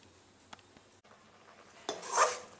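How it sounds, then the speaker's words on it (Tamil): Milk reducing in a pan for thiratti paal is stirred, with quiet scraping and small metallic taps, then a louder bubbling scrape and sizzle near the end; no talking. "ஆடையை எடுத்து விட்டு எடுத்து விட்டு கிண்டிகிட்டே இருக்கணும்"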